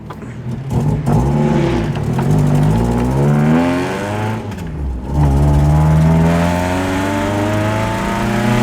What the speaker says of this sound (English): I love that the exhaust leak at the header is as loud as your exhaust.